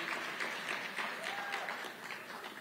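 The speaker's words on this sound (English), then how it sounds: "Can we give a hand clap for him?" Audience applause at a conservative federation gala in South Carolina, a broad steady wash of many hands clapping, moderately distant and sustained throughout.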